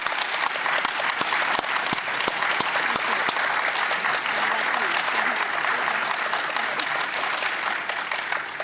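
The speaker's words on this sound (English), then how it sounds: "Let's give our candidates a round of applause." An audience at a chamber of commerce mayoral and school board candidate forum gives a sustained, dense round of applause, steady and fairly loud for several seconds, with crowd murmur mixed in.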